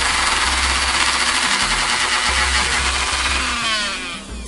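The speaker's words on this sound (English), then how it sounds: "got my Dremel all set up. It's going to be a little bit loud" A Dremel rotary tool fitted with a wire brush scrubs a part from an Aurora slot car Mustang Fastback, a loud, steady high-speed whine with a buzzing, grinding edge that runs continuously and winds down at the end.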